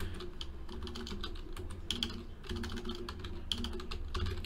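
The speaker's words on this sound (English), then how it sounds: "Can't type right now." Rapid clattering keystrokes on a computer keyboard, a dense close-up flurry of clicks with brief pauses, over a low background hum and no speech.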